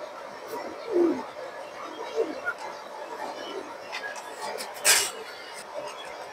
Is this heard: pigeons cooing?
yes